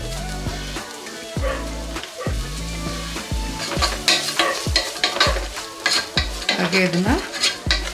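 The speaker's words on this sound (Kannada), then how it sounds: "ಈರುಳ್ಳಿನ ಗೋಲ್ಡನ್ ಬ್ರೌನ್ ಕಲರ್ ಚೇಂಜ್ ಆಗೋ ತನಕ ಇದನ್ನು ಇದೇ ರೀತಿಯೇ ಎಣ್ಣೆನಲ್ಲೇ ಫ್ರೈ ಮಾಡ್ಕೋಬೇಕು." Onions frying in oil until golden brown, with salt added, for a bitter gourd dry fry; steady close sizzle with repeated scraping stirs of a spatula against the pan, and a voice speaks briefly.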